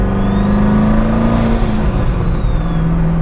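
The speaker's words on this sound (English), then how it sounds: "hopefully you guys can hear those turbos a little bit better this time" Twin-turbo Corvette C6 Z06 running on a dyno, loud close engine drone with a rising and falling whine of turbos spooling, continuous and steady throughout, no voices.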